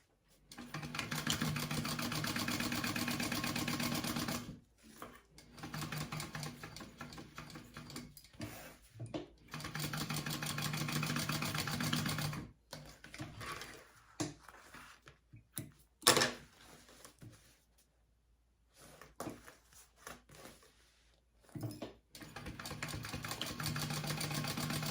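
A sewing machine bastes a fabric wallet, running in steady whirring, rapid stitching stretches broken by brief stops and short starts, close and clear with no talk.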